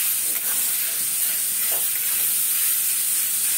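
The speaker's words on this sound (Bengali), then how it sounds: "আলু যে গ্রেট করে রেখেছিলাম ওই আলুটা দিয়ে দিচ্ছি।" Grated potato dropped into a hot pan for a veg paneer roll, giving a steady loud sizzling hiss throughout, close and continuous with no voices.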